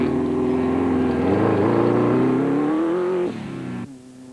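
A Castrol Toyota Hilux 2.7i off-road racing truck roars past during a 2005 off-road race. The close, loud engine note climbs in pitch under acceleration, then drops abruptly and fades away.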